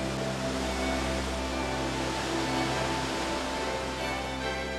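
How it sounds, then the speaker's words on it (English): The Wulai waterfalls in Taiwan, spilling down over 260 feet, give a steady, dense roar of falling water that holds an even loudness from start to finish, with no voices. "The Wulai waterfalls spill down for over 260 feet."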